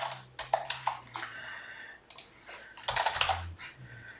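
Keys clacked on a computer keyboard while a user's first name is entered, several crisp, close keystrokes in two quick bursts separated by a brief pause, with no talking.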